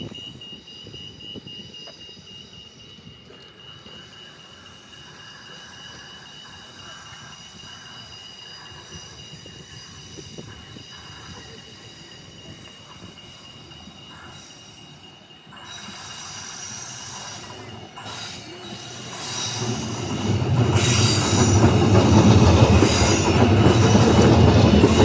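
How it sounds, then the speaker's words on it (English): A TCL train pulls into McIver Station with steady rumbling wheels and rail noise that swells louder as it draws near, ending in a loud, close roar of passing cars. "And we have the TCL train coming."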